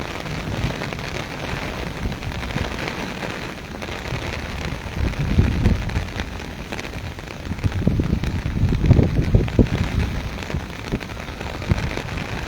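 Heavy monsoon downpour in Taunsa Sharif, a dense, continuous hiss of rain on surfaces that swells louder at moments, with no voices.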